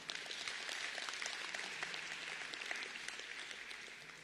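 An audience at the closing ceremony of a SADC summit applauds for Zimbabwe, a continuous even wash of many hands clapping, heard quietly as if from a distance, with no voices over it.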